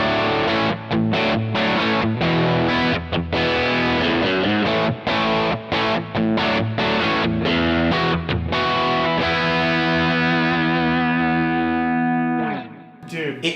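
A loud electric guitar with no pedals through a 1963 Fender brownface amp, warm and slightly overdriven, plays chords and short riffs, ringing out on a final sustained chord that fades.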